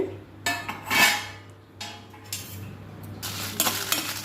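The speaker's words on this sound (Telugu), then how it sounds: "నెక్స్ట్ ఎండుమిర్చి వేసి సిమ్లో పెట్టి లోపల వరకు వేగేటట్టు బాగా వేయించాలండి" Dry red chillies frying in a pan as a metal spoon stirs and scrapes them, with several clinking, scraping strokes and a soft sizzle underneath, close and fairly loud with no talking.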